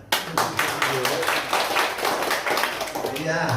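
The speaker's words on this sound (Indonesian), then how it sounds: "Kasih tepuk tangan." A church congregation claps in a dense, continuous patter, with voices talking over the applause.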